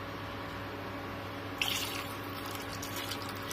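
Water being poured into a cooking pot for haleem, a constant close splashing, fill-like stream under a low background hum, with a sharper splash partway through followed by continued pouring.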